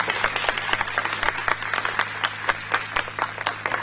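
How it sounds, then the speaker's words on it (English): Audience applause at an interview event at the G20 Summit in Srinagar: a steady, dense wash of many hands clapping, fairly close and even throughout, with a low hum underneath. "Ladies and gentlemen, I think it deserves a big round of applause over again."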